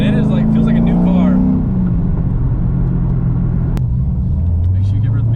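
A car engine pulls hard under acceleration, its tone climbing, then dropping at a gear change and building again, loud and close from inside the cabin with some talk mixed in.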